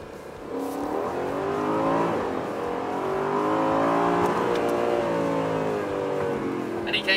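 An Aston Martin Vantage engine pulling hard in second gear, a rising, throaty growl that swells and climbs in pitch across the whole stretch, heard close and loud.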